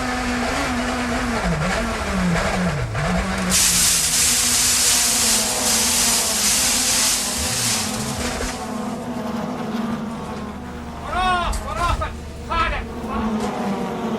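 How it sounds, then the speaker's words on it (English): A Vauxhall Cavalier touring car aquaplaning at over 100 mph on a wet 1990s circuit, a loud sustained engine drone with a broad spray hiss that swells midway, while a commentator talks over it throughout. "You can hear the Cavalier aquaplaning at over 100 miles an hour."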